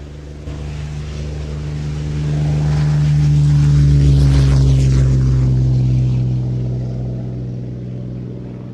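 A Hawker Hurricane's piston aircraft engine roars past, swelling from a low drone to a loud close pass and fading again, with no voices.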